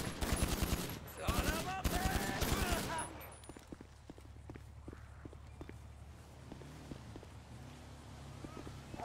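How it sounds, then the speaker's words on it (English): Gunfire aimed at players in GTA V, a burst of rapid loud shots in the opening seconds mixed with voices, then fainter scattered pops and footsteps under quieter background. "who the hell is taking shots at us right now?"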